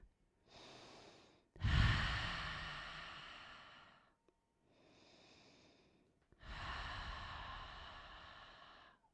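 Deep, slow breaths during a yoga practice, four long inhale and exhale phases with short pauses between, the second and last louder and closer, heard alone without talk.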